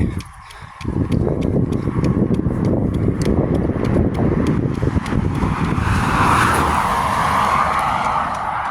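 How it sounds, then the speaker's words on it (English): A noisy car passes on a road near Nimbin, rising from near quiet into a loud, sustained rushing roar that lingers for several seconds with no talking. "Until a bloody noisy car comes past."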